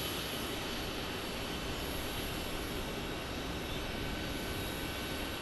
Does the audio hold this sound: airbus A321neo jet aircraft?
yes